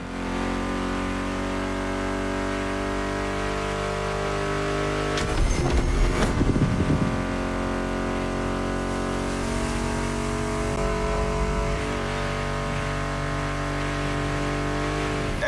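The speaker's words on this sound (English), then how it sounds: "Meshes well with the sound of the engines, you feel me?" Muscle car engines in The Crew Motorfest video game drone steadily with a sustained, even tone, with a brief burst of revving or tire noise midway and music playing underneath.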